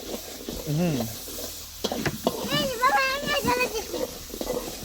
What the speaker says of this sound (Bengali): চিংড়ি মাছ কষায় নিচ্ছি